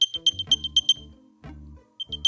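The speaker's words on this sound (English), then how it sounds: "It'll play a nice little tune to let you know, hey, this is where your case is." A short, bright electronic chime melody from an AirPods 4 earbuds case alert plays in quick repeated beeps, pauses briefly, then resumes, sounding close and clear.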